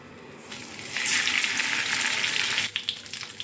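Fish, wrapped in banana leaf for a masala fish fry, drops into hot oil and sets off a loud, sustained sizzle that swells right after it goes in, then settles into bubbling crackles.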